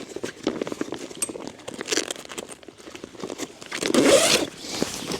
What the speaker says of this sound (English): Very good zip.